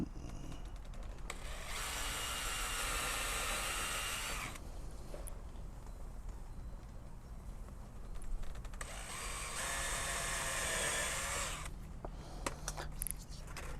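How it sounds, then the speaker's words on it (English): A power drill whines in two long bursts boring holes in a Lexus SUV, with quieter handling clatter and pauses in between. "we're going to go ahead and drill two holes right there."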